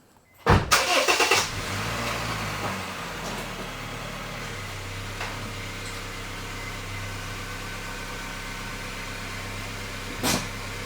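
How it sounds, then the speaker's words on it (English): A Honda Fit's engine starts abruptly and settles into a steady idle-like rumble as the car creeps forward onto ramps, with a brief clunk near the end. "So we're going to drive the car on the ramps."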